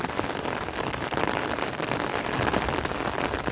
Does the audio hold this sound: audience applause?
no